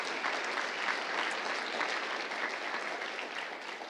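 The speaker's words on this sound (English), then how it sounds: "give all the leaders a round of applause just to show your appreciation for what they do" A church congregation at a Sunday rally applauds steadily for its leaders, a soft, even patter of many hands held at a constant level throughout.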